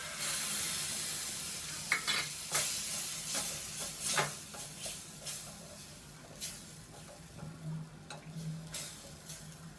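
Onions turning golden brown in a frying pan for pasta, giving a steady soft sizzle with occasional stirring scrapes and ticks, close but fairly quiet, with no talking.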